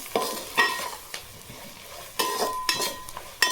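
Turmeric being stirred into greens cooking in a pan, with a loud utensil scraping and stirring in bursts over a steady sizzle, no talking.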